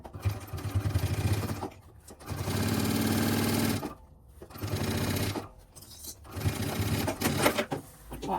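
Sewing machine stitching the seam of an expandable toiletry bag, running in several bursts of rapid mechanical whirring separated by short pauses.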